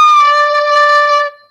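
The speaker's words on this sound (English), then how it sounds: "So if I cover up all the holes and keep loads" A recorder sounded with every finger hole covered gives a single steady low note, loud and close, held for over a second before cutting off cleanly.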